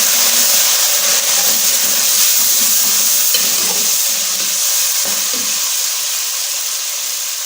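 Golden-brown onions and tomatoes sizzle loudly in a pan for a Pakistani chicken matar dish, a steady, close hiss of frying broken by the scrape and clatter of stirring, with no talk.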